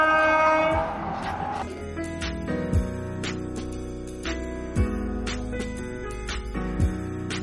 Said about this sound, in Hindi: 2 मिनट के स्टॉप के बाद हमारी ट्रेन रवाना हो चुकी।